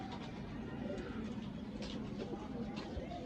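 Pigeons in a newly built loft coo in a steady, dense chorus with fluttering and shuffling, heard close and continuous throughout, with a voice talking intermittently over the birds.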